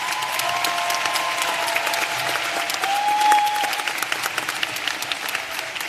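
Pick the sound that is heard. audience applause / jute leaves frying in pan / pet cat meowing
audience applause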